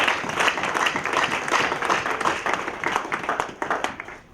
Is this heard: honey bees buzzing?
no